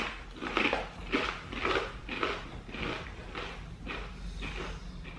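Organic blue corn, yellow corn and sweet potato tortilla chips crunched in a close, quiet series of rhythmic bites, about eight or nine crisp crunches at steady intervals.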